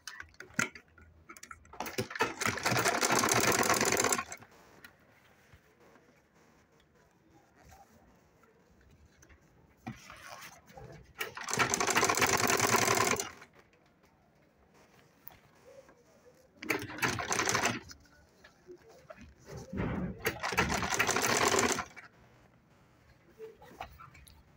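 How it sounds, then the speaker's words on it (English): A sewing machine top stitches a DIY travel bag, running in four loud bursts of rapid mechanical stitching separated by quiet pauses. "So let's top stitch this now."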